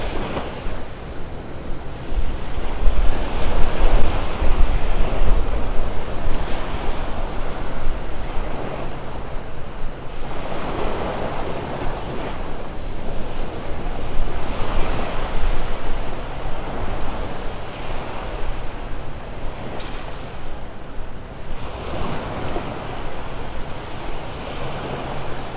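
Steady broadband wind and surf on Vanderbilt Beach in North Naples, Florida, a continuous outdoor roar with slow swells of louder gusts or breaking waves, no talking.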